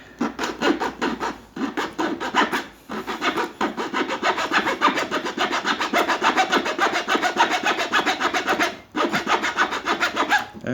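Steady back-and-forth rasping strokes, fast and rhythmic, as a three-sided file grinds through material up close, cutting by abrasion, with a brief pause near the end before continuing.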